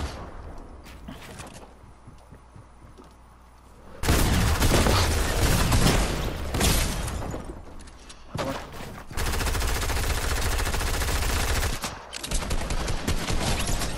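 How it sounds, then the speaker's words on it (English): Gunfire in Fortnite Chapter 2, heavy sustained bursts of automatic fire that come in loud dense stretches separated by quieter gaps, close and dominant. "They're shooting at you."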